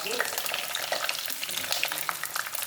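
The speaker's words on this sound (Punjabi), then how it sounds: "ਆਪਾਂ ਨੂੰ ਐਂ ਤਾਂ ਕਰੇਲੇ ਬਣਾਉਣੀ ਆ ਤੇ ਇਹਨੂੰ ਆਪਾਂ ਇਹਦੇ ਵਿੱਚ ਤਲ ਲਾਂਗੇ" Bitter gourd (karela) fries in hot oil in a home kitchen, giving a dense, steady sizzle with crackling pops throughout. It is close and continuous, with no voices.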